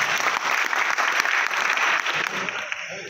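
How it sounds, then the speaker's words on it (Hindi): An audience in a courtroom-style classroom gathering claps together, a dense burst of applause that holds steady and loud before thinning out near the end. "इसके ताली बजाओ"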